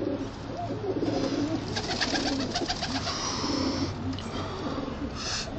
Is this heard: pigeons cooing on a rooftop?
yes